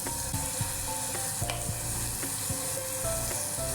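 Spices with salt and turmeric are stir-fried and mixed in a pan for an egg devil dish, giving a steady close sizzle with repeated scraping and stirring strokes of a spatula.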